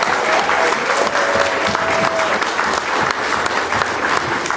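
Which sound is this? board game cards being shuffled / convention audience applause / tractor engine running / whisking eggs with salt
convention audience applause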